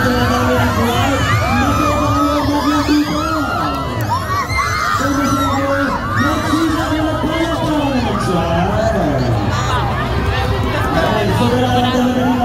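A large, dense crowd at the Lucena grand parade, with children shouting, whoops, cheering and overlapping chatter filling the scene loudly and continuously, plus nearby voices talking throughout.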